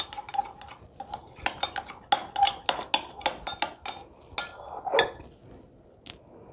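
Soap crayon mixture scented with orange essential oil being stirred with a utensil, a steady run of close clinks and scrapes against the container over several seconds, with a louder clatter near the end.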